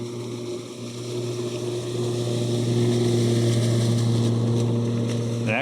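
A Mowrator S1 4WD electric radio-control lawn mower runs outdoors among fallen leaves with a steady, humming motor drone that swells slightly louder and holds, with no talking.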